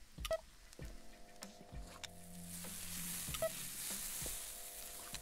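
Burger patties sizzling on a grill in the video game Happy's Humble Burger Barn, a soft steady sizzle under sharp interface clicks and low droning game tones.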